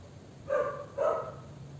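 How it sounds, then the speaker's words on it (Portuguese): Two separate dog barks, a short pause between them, sounding somewhat distant against a quiet background. "Olha o cachorro latindo."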